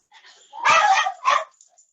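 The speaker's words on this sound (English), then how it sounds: "oops, dogs are paying us a visit" Dogs named Maggie and Billy give two short nearby barks with a slight whine, loud and sharp against an otherwise quiet room.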